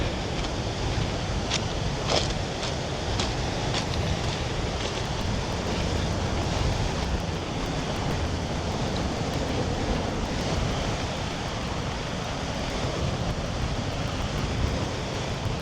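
Ocean surf rolls onto the sand at Imperial Beach in California as a steady broadband wash, with wind buffeting the microphone throughout and no voices.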